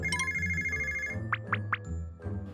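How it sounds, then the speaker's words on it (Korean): A phone ringtone plays during a Korean variety show segment, three bright tonal chirps in a quick even rhythm standing out over a busy background of music and room noise, followed by a fainter fourth burst. "여러분 저 전화 왔는데?"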